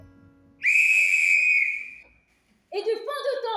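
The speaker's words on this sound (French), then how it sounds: "Puis, Asclépios siffle," Asclepius gives a loud, clear, sustained whistle on a single high pitch that fades away, followed after a short silence by a warbling, rising voice-like sound.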